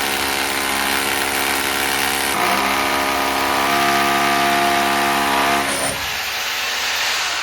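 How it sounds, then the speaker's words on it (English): A power drill whines steadily with a shifting motor pitch, running loud and close as it bores through an exterior wall with the bit angled upward, then slows and winds down near the end. "we'll angle the drill bit upwards slightly"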